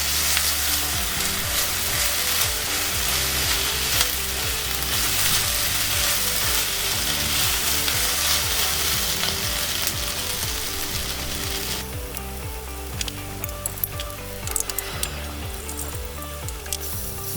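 Three crushed garlic cloves fry in a cast iron pot for a lamb shank tagine, a dense, steady, close sizzle with scattered clicks from stirring; the tone shifts partway through and becomes thinner and crackly.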